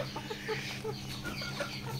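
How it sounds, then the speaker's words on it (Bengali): Layer parent chickens cluck in a farm setting, several hens giving short repeated clucks close by over a steady low hum. "এটা হচ্ছে লেয়ার মুরগি প্যারেন্টস।"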